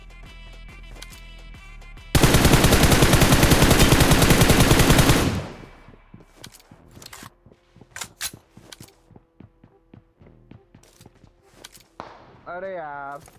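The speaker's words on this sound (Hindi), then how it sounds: "लेकिन तभी चलती है दिल्लू भाई पे गोलियां" Gunfire in a mobile battle royale video game opens with a loud, sustained burst of rapid shots lasting about three seconds, followed by scattered sharp single cracks and quieter clicks at varying distances.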